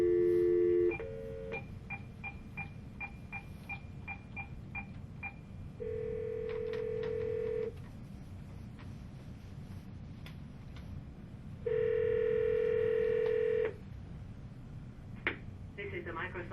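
Touch-tone telephone dialing to a Microsoft Speech Server application line: two steady tone bursts, a run of about ten evenly spaced keypad beeps, then longer ringback-style tones at intervals, with a faint low hum beneath.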